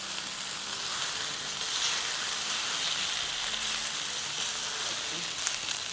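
Ginger, garlic and onions fry in a pan with a steady, even sizzle, moderately close and unbroken, with faint stirring scrapes.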